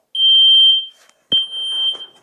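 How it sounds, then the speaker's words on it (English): A First Alert smoke detector set off by barbecue smoke gives loud, piercing, steady high beeps in two long bursts separated by a short gap, with a bump and faint rustling between. "I'm testing these two fire alarms with real smoke on a barbecue."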